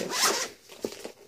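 Zipper on a Zelda Breath of the Wild special edition Switch carrying case being pulled open, one quick bright zip close to the mic followed by a few soft rubbing clicks.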